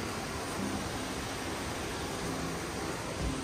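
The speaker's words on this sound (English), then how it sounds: "There's the creek." A creek flows beside a hiking trail, producing a steady, dense rushing wash with no breaks, fairly close and constant throughout.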